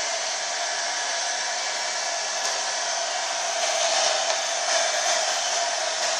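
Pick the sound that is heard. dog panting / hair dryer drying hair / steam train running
hair dryer drying hair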